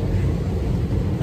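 Steady low roar of airplane cabin noise heard from a window seat aboard a passenger plane, a constant broadband hum with no talk.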